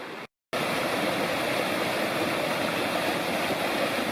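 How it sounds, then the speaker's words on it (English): Kirkland Creek rushing over rocks at an easy crossing in the Upper Bald River Wilderness, a steady, close, broadband flow that briefly cuts out near the start before resuming. "here's one of the easier crossings down Kirkland Creek a ways"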